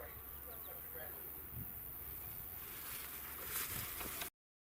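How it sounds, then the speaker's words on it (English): A steady high-pitched cicada buzz drones in the background of a field, fairly faint and continuous, with light rustling, before cutting off abruptly. "that buzz in the background are cicadas"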